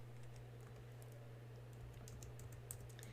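Soft, quick key presses on a computer keyboard as measurements are entered into craft design software, a faint irregular patter of clicks growing busier toward the end over a low steady hum.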